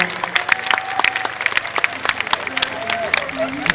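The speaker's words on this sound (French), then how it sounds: "Applaudissez s'il vous plaît" Spectators clap and cheer at the Paris-Versailles road race finish as a runner approaches the line, scattered sharp claps mixed with crowd noise under an announcer's voice.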